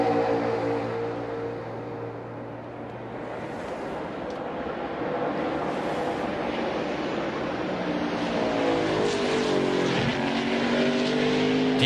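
Xfinity stock cars race around the Road America road course, engines roaring past in rising and falling pitch sweeps, several cars overlapping, loud and continuous against a broad crowd and wind wash.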